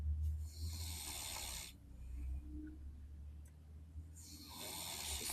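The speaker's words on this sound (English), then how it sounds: "She's snoring." A person snores in long, raspy, hissing breaths, one at the start and another near the end, separated by a quieter pause, heard close and fairly soft.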